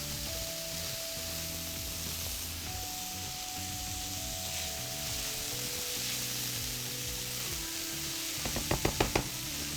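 Vegetables fry in olive oil in a pan with a steady, even sizzle, while tonal background music plays over it and a few sharp clicks come near the end.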